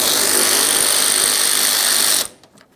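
A power tool runs loud and steady for about two seconds, then cuts off, while backing out a 10mm bolt at the corner of the bumper cover of a 2011-2021 Jeep Grand Cherokee.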